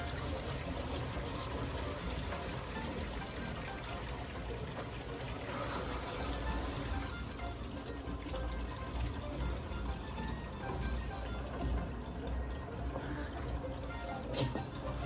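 Water gurgles and rushes steadily down a drain for several seconds, a continuous close wash of liquid sound.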